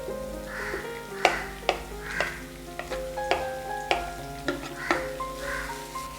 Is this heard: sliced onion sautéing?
yes